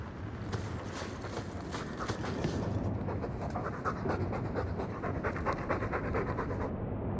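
A dog pants steadily and loudly in the video game Dragon Age 2, with quick rhythmic breaths continuing throughout over a low ambient background.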